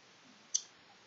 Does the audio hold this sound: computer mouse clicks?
yes